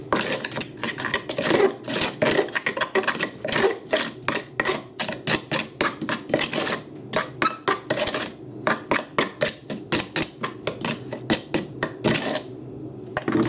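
A hypertufa mix with extra sand added for strength is stirred by hand, giving close, rapid, rhythmic gritty scraping strokes that run steadily with only brief pauses.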